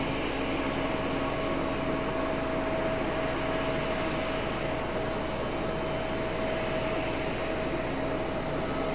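Airliner taxiing at Raleigh-Durham airport, a steady jet engine roar with a constant whine and humming tones, loud and unbroken throughout, with no talking.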